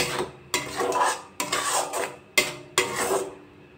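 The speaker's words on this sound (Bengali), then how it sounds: "গ্যাসের ফ্লেমটা কমিয়ে ক্রমাগত এটা নাড়তে থাকবো।" A spoon scraping and knocking against a pot as ripe mango jelly is stirred over a low gas flame, four or five distinct strokes in a loose rhythm, close and clear with a faint sizzle beneath.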